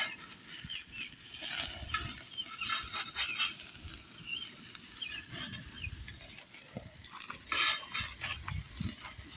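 Burgers fry on a griddle with a steady sizzle, while a metal blade scrapes and clinks against the surface in irregular strokes, close and fairly quiet.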